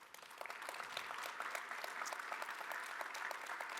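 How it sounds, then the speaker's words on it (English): A conference audience applauds this year's number 1 FreightTech 25 winner, Amazon Freight, with steady, dense clapping at moderate volume that holds throughout without talk. "Give a round of applause to this year's number 1 on the FreightTech 25"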